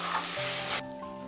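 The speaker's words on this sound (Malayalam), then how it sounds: "ഇനി നമ്മൾക്ക് ഈ അരപ്പ് ഇതിലേക്ക് ഒഴിച്ചൊടുക്കാം. ഇത് നന്നായിട്ടൊന്ന് ഇളക്കി" Ground masala paste stirred into a frying mixture, a brief loud sizzling hiss that cuts off sharply after under a second, leaving a faint tonal background, no talk.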